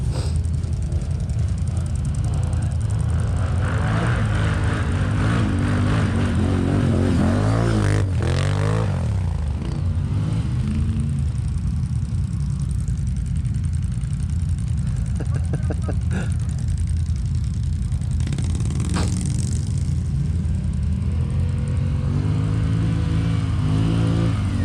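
An ATV engine labours and revs through a steep hill climb, droning loud and close with rising and falling pitch, while people speak over it.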